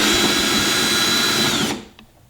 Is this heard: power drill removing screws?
yes